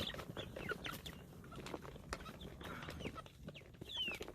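Cornish Cross broiler chickens cluck and peck while feeding, with frequent soft, close clucks and short calls layered over scratching and tapping around the feeder.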